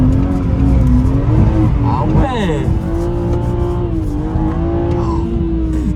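A Nissan 370Z, BMW 340i or BMW M3 F80 drifting, its engine roaring and revving steadily with a sliding pitch, the tires squealing briefly, while people talk over it inside the car.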